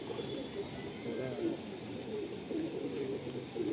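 Madrasi pigeons in a loft coo in low, repeated rolling calls, close by, over a steady background hum.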